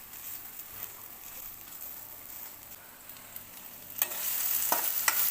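Ginger frying in a pan makes a quiet, steady sizzle that swells louder near the end, with a few sharp clicks of stirring.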